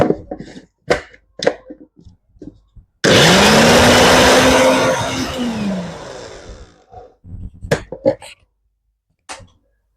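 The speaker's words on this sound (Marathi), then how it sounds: "पाणी न टाकता आपल्याला हे सर्व मिक्सरमध्ये फिरवून घ्यायचे आहे." A mixer grinder spins dry spices into powder for Ugadi pachadi, a loud whirring roar that bursts on suddenly, runs about four seconds and winds down, with scattered knocks and handling clatter before and after.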